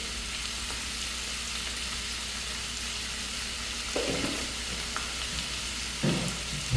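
Onions sauté in a pan for a crab curry, giving a soft, steady sizzle with occasional stirring clatters of a ladle, fairly quiet and close, with no speech.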